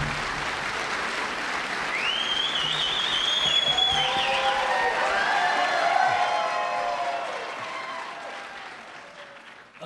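A forum audience breaks into sustained applause, a steady wash of clapping that swells and then tapers off over about ten seconds, with a few faint cheers and no clear speech.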